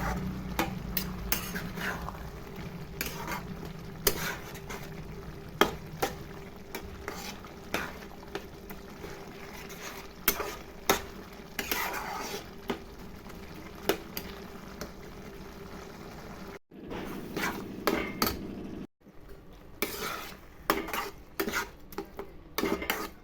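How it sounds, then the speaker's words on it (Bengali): A vegetarian banana stem curry with ground paste, ginger and a spoon of sugar being stirred and fried in a pot, with frequent close clinks and scrapes of a utensil over a soft bubbling sizzle. "এবারে নাড়াচাড়া করে ভাজা ভাজা করতে থাকবো"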